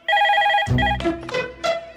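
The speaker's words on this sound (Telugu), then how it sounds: "రింగ్ అవుతుందిరా" A telephone rings with a repeated electronic bell tone, loud and close, then a burst of low thuds and rustling cuts in as the ringing fades into scattered bright tones.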